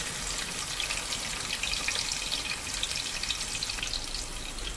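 Continuous crackling sizzle of garlic frying in hot oil, close and steady, with no voices.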